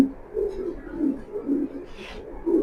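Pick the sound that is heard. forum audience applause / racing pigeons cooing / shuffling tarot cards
racing pigeons cooing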